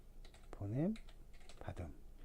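Quick, soft keyboard clicks in short bursts, with a brief voiced sound in the middle.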